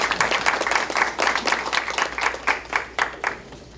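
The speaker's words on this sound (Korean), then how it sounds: "박수 한번 보내주시기 바랍니다." Scattered, rhythmic clapping from an audience at a Democratic Party supreme council meeting, individual claps clearly distinct and fairly close, gradually thinning out toward the end.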